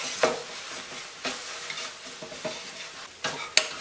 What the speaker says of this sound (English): we're going to add our meat with the seasoned flour, and we want to brown these really well